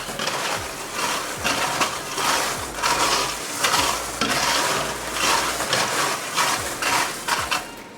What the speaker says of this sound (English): We're gonna sprinkle it all in here and give it another stir.